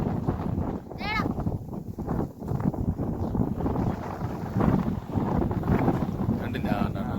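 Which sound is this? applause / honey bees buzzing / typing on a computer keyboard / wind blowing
wind blowing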